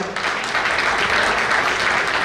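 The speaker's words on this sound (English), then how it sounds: "Long round of applause for him" A crowd at a cricket club annual awards banquet gives a long round of applause, dense and steady throughout with no gaps.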